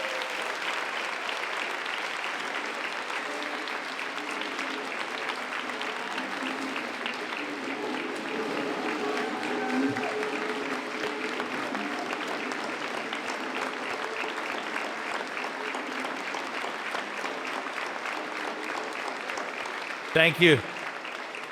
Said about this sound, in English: Please give her a massive round of applause for that.